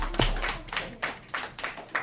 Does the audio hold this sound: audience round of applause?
yes